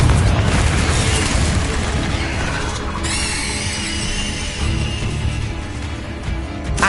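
A Confringo spell blast in Hogwarts Legacy: a heavy, booming explosion at the start, followed by a sustained rumbling roar with a squealing, whistling tail.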